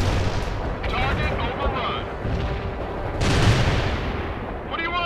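Gunfire and artillery blasts in the real-time strategy game World in Conflict during a battle for Pine Valley, a continuous loud barrage of rumbling explosions and bursts, with radio voices heard over it.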